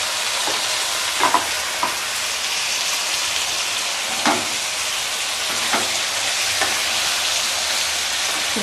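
About a kilo of washed chicken pieces hiss and sizzle steadily in hot oil in a pan for a gravy, with a few sharp pops and clinks of stirring over the constant frying.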